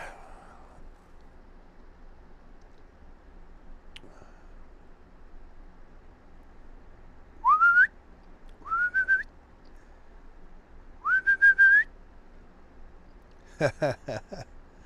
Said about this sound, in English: I'm whistling at my cat.